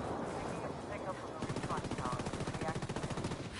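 Rapid automatic gunfire from a video game shooter rattles steadily at close range for a couple of seconds, following a stretch of busy game ambience.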